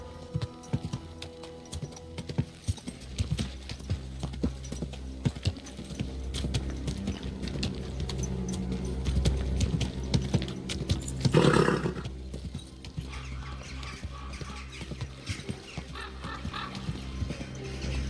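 Horse hooves clip-clop in the medieval video game Kingdom Come: Deliverance II, a steady rhythmic trot under game ambience, with a louder burst of noise near the middle and no speech.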